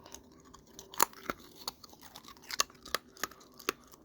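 Someone chewing stale 1987 Topps baseball card gum, brittle as brick, with irregular sharp crunches and grinding bites up close, loudest in a few hard snaps.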